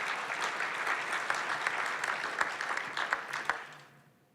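Dense audience applause fills a hall at a community event, sustained and fairly loud, then thins and fades away over the last second.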